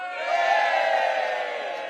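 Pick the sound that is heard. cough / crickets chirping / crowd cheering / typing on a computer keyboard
crowd cheering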